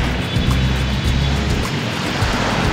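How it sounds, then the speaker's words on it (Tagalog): Sea waves wash onto the shore at Dolomite Beach by a port, a steady broadband surf roar with low rumbling swells and some wind buffeting the microphone, continuous throughout with no talking. "Yung tunog ng pag-alon ng katubigan dito sa"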